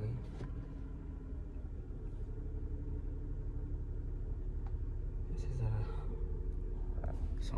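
A car engine is started and left running: a steady low rumble and idle hum continues throughout, with voices talking over it.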